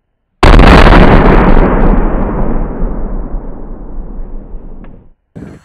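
A single huge blast as plastic explosives detonate and blow up a Samsung Galaxy Nexus phone, a sudden loud boom that rumbles and slowly fades over several seconds before a brief silence.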